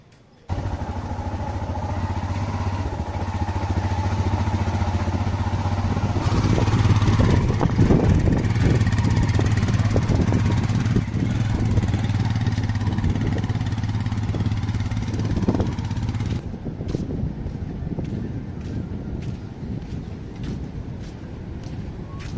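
Several motorbikes ride together toward a sea beach, with steady engine drone and heavy wind buffeting close to the microphone throughout, the engine tone dropping near the end as the bikes slow.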